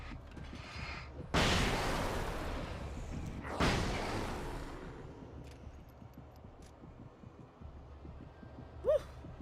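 A flashbang grenade goes off in the video game Alan Wake, giving two loud, sudden broadband blasts that ring out and slowly fade, followed by quieter ambience and a brief sharp sound near the end.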